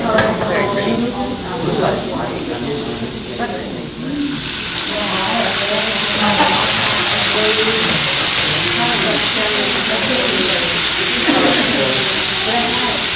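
Vegetables, the thicker pieces among them, stir frying and steaming in a hot pan with garlic, a steady loud sizzle and hiss running throughout, with brief speech early on and clattering stir motions.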